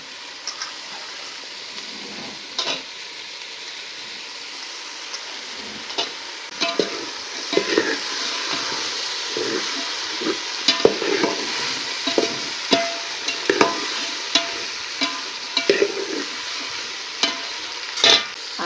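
Ghevda beans are stir-fried in a pan, a gentle, steady sizzle broken by repeated, rhythmic scrapes and clicks of a spoon stirring, close and moderately loud.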